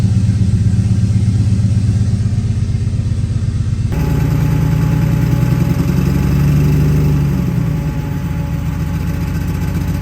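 A turbocharged BMW E46 engine idles steadily and loudly up close, a continuous low rumble with a slight shift in tone partway through and no voices.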